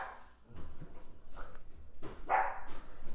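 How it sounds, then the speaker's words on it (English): A dog barks several times in short bursts, close and loud, with a few sharper yips toward the end. "you're going to hear the dog bark"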